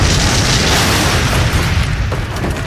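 A pressure receiver holding fuel gas and nitrogen explodes at an industrial site: a loud, sustained blast roars out and then rumbles on, heavy, with no speech around it.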